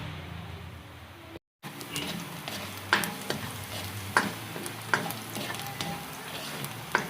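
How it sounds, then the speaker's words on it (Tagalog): Garlic sizzles in hot oil as it is sautéed for grouper escabeche, a steady close frying hiss punctuated by several sharp clinks of a spatula stirring the pan. "magigisa na tayo ng pangrikado sa iskabitsing lapu-lapu"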